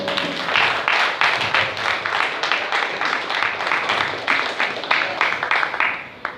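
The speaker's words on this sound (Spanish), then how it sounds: "Fuerte palmas para él." Audience applause greets a speaker being introduced at an anniversary event of a friendship and cooperation association, a steady wash of many hands clapping with rhythmic pulses, fairly close and full, with no talk over it.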